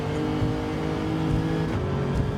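A race car engine in the URL Ultimate Racing League video game on the Tokyo South counterclockwise track, roaring steadily and loudly as it climbs through the gears toward sixth.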